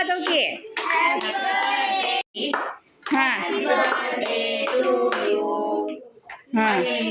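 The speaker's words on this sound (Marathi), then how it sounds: "टाळ्या वाजवा की टाळ्या" Children clap their hands at a birthday party, quick bursts of applause mixed in with loud, excited children's voices singing and shouting nearly throughout.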